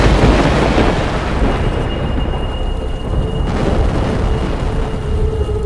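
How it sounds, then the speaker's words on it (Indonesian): Deep thunder rolls on continuously beneath a dark storm sky, a loud, dense rumble with no distinct cracks, steady across the whole stretch and with no voices. "disertai kilatan cahaya petir dan suara guruh menggelegar"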